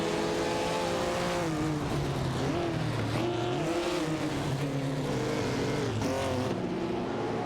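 Race car engines roar through shifting, rising and falling revs in a video game race featuring a Jaguar D-Type, cars passing close with a continuous loud drone and occasional tire squeal.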